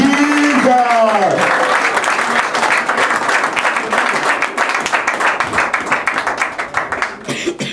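A group claps hands for Jesus, building into dense applause that fades slightly toward the end. A voice rings out briefly at the start before the clapping takes over.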